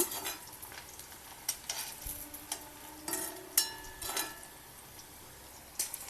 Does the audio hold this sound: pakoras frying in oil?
yes